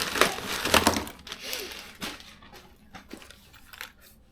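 The contents of a goodie bag from bike-tour gear are dumped out, landing in a close, brief clatter of rattling and crinkling, then settling in a few quieter knocks and rustles.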